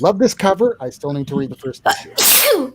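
A single sharp sneeze bursts out at the end, just after someone speaks casually during a comic book podcast conversation.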